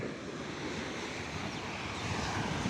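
Rough, aggressive ocean waves crash and surge continuously on Alleppey beach in Kerala, a dense roar of surf mixed with wind noise on the microphone, with no voices.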